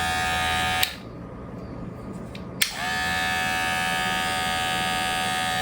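A Kemei KM 517 cordless electric shaver buzzes steadily, switches off with a click, then clicks back on and keeps humming close by.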